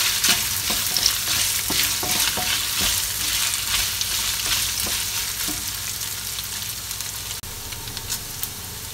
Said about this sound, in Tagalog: Dapat po igisa po natin mabuti ang bawang at sibuyas sa karne